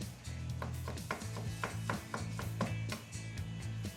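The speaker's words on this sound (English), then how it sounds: "And then we take some nice fresh garlic, Chop it up." A knife chops fresh garlic on a board in a steady run of quick, soft taps, close by and faint, for Chinese cooking in a resort kitchen.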